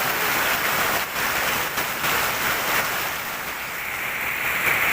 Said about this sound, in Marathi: जोराचा पाऊस आहे बघा